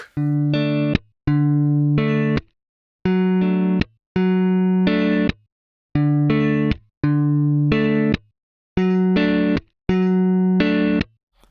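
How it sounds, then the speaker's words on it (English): Sampled muted, percussive hand hits stopping guitar strings, from the Audiofier Modus & Forma instrument, punctuate repeated short bursts of strummed chords, forming a steady choppy rhythm. "it will trigger the noise of the hand hitting and stopping the strings"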